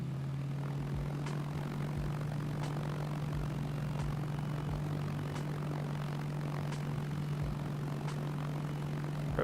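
Aircraft engine in Arma 3 holding a steady, loud drone through a takeoff run from a non-airport sector, with faint periodic thumps over the continuous hum and no talk.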